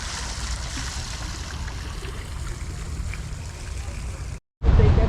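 A water feature in a botanical garden in Colombia flows with a steady, close rushing and trickling wash that holds evenly, then cuts out briefly and returns louder near the end.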